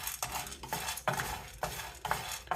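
Lentils are dry roasted in a pan and stirred by hand, with five or six distinct scraping sweeps and light clinks repeating at a steady rhythm, close and fairly quiet.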